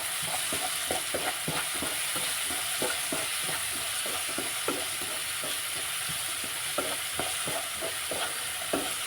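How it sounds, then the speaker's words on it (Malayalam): Raw mango pickle with salt is stirred in a pan, giving a continuous soft sizzle with quick, irregular scraping taps from a spoon throughout, close by and with no voices. "ആവശ്യത്തിനുള്ള ഉപ്പ് ഇട്ടെടുക്കട്ടോ എന്നിട്ടൊന്ന് ഇളക്കി വെക്കാം"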